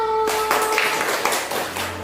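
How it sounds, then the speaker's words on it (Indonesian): A classroom group of children claps for the first winning group at a prize-giving, a short burst of dense, fairly loud clapping with light tapping mixed in. "Tepuk tangan untuk kelompok 1."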